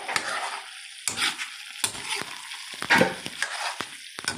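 Vegetables for semi-chopsuey are stirred in a hot pan, with repeated close scraping strokes over a soft sizzle and clattering utensil hits at an uneven rhythm.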